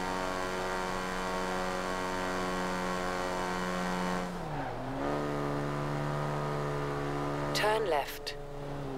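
A Morris Minor with just 37 horsepower is driven in a racing video game, its small engine droning steadily before dropping and climbing again through a gear change, with a brief screech near the end.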